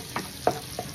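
Garlic sizzles in melted butter in a pan, with a soft, steady frying crackle. Three quick stirring scrapes stand out, close and moderately quiet.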